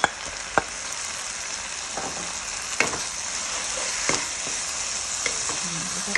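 Pad thai sizzles loudly in a pan with tamarind water, fish sauce, sugar, fermented soybean paste, sweet preserved radish and dried shrimp, as sharp scrapes and taps of a spatula cut through every second or so.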